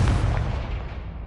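A Confringo fire spell exploding in a video game, one short, heavy, close blast with deep rumble that decays quickly, heard alone.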